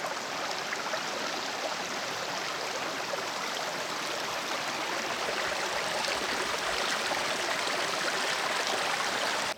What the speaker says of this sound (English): you can see this creek that we just saw. It's coming down through these boulders